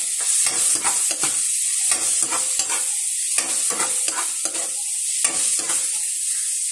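Garlic sizzles and fries in a hot pan while being stirred, with repeated scraping strokes of the utensil over a steady close, loud sizzle.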